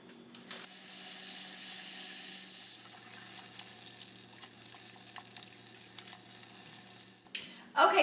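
Ingredients melting in a saucepan for homemade caramel sauce give off a faint, steady hiss, broken by a few soft ticks and a brief clunk near the end.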